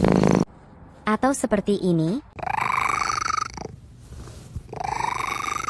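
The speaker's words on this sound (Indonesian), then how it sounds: "Jika kamu pecinta kucing pasti pernah mendengar kucingmu mendengkur." A domestic cat purrs close to the microphone, a low rumbling vibration with a few short vocal chirps near the start, and a person speaks briefly between stretches of steady, breathy purring.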